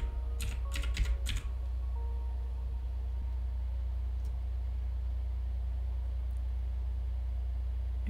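Brief burst of keystrokes on a computer keyboard while entering text in Microsoft Word, a few quick clicks near the start, then a steady low hum with no more typing.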